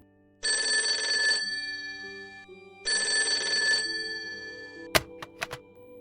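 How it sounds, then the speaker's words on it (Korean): A hotel telephone rings in two long electronic bursts separated by a pause, loud and close over a soft background tone, followed by a few sharp clicks as the receiver is picked up. "프론트맨 역시 평소처럼 호텔에 걸려오는 전화를 받고 있었습니다."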